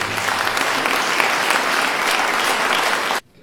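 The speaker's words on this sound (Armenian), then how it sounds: "Ես ուզում եմ բոլորից հետ միասին ծափահարել այս երեխաներին" A concert audience in Gyumri applauds young performers with dense, sustained clapping that fills the hall, then stops abruptly near the end.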